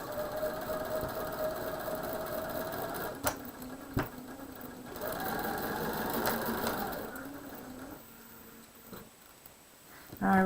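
A sewing machine stitches over a quilt seam line in close, steady runs, pausing briefly between bursts of rapid mechanical hum.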